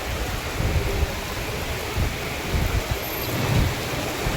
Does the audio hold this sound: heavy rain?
yes